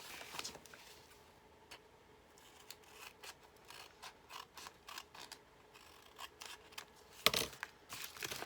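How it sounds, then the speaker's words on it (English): Scissors snip across the tops of paper envelopes in a string of crisp, close cuts at an uneven rhythm, a dozen or so short crunches with a louder snip near the end. "just trim the tops off your envelopes."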